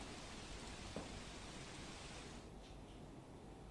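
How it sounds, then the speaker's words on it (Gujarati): Heavy unseasonal rain pours steadily during a thunderstorm in Bharuch, a dense, even wash of falling water that eases slightly toward the end. No distinct thunderclap stands out, and nobody speaks. "કડાકા ભડાકા સાથે કમોસમી વરસાદ વરસી રહ્યો છે"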